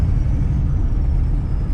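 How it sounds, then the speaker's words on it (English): A faint, thin turbo whistle rides above the loud, steady low rumble of an old Detroit diesel engine in an OBS pickup truck, the whine holding high and drifting slightly downward throughout. "You can hear the whistle a little bit."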